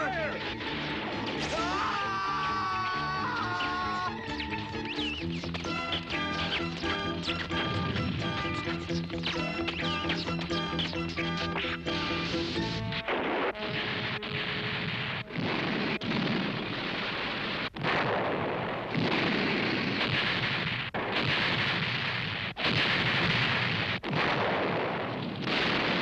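Loud monster-movie battle din: a dense, sustained clash of tones and impacts for the first half, then repeated heavy booms and bursts of gunfire-like blasts at irregular intervals, mixed with shouted voices.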